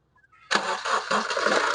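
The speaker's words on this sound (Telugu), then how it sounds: "ఇంజన్ స్టార్ట్ చేసి కూడా చూపిస్తాను" A 2015 Honda Amaze VX car engine cranks and catches with a sudden loud roar, then settles into a steady running rumble, close up.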